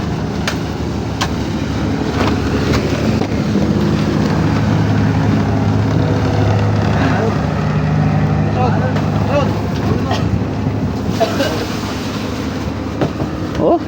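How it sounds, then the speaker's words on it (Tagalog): A boat fitted with two engines runs with a steady, continuous droning hum, while people talk over it nearby. "Dalawang makina."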